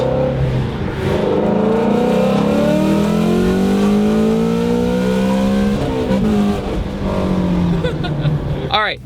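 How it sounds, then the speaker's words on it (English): A naturally aspirated Shelby GT350 running E85 with bolt-ons pulls hard, its V8 climbing loudly through rising revs with a brief shift dip, close and roaring, with speech faintly underneath. "this is a Shelby GT350 with essentially NA horsepower using E85 and bolt-ons"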